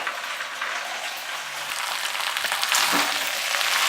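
Pasta with melting grated cheddar being stirred in a hot pan over the flame, a continuous soft sizzle and crackle with faint scraping, moderately close and with no talking.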